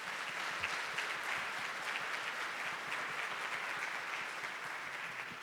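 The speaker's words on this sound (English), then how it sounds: "can y'all just give them a round of applause?" Sustained, dense applause from an audience at a talent development gathering, clapping for ecosystem coordinators, loud and steady from start to finish without a break.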